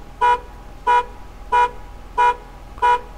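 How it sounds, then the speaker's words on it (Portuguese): A car horn from a vehicle alarm mod in GTA San Andreas honks five short, evenly spaced toots, loud and clear with nothing else around them. "Terceira versão é só a buzina"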